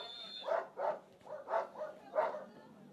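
Dogs bark in a rapid string of about six yaps beside an urban downhill mountain bike race course in Valparaiso, moderately close and with no other sound competing.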